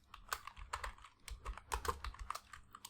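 Fingers type on a computer keyboard, a quick irregular run of soft, close key clicks and taps over a faint background hum.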